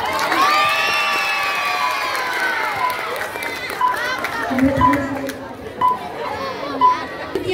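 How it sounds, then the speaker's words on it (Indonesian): Students cheering and chattering at a school student council candidate debate, loud excited shouts and crowd noise filling the room, tapering into scattered voices. "tepuk tangan dulu."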